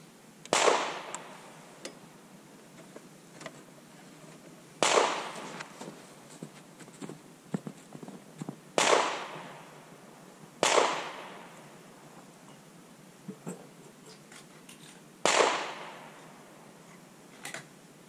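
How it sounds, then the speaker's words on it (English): Five loud rifle shots from a 7mm-08 loaded with 140-grain Remington Core-Lokt, fired through a chronograph outdoors, each sharp report trailing into a decaying echo, spaced a few seconds apart with faint clicks between. "So I'm going to move my chronograph over and shoot a couple rounds through it just to get an average here."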